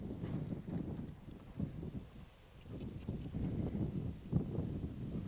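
A horse being ridden over fences in equestrian training thuds along with muffled, rhythmic hoofbeats, heard from a distance and faint under wind and outdoor noise.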